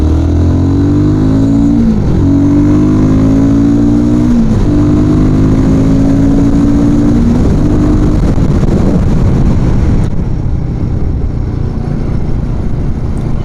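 Royal Enfield Guerrilla 450 motorcycle accelerating hard on an open road, engine note climbing through several gear changes with brief dips between, loud and close, then settling into a steady rushing drone.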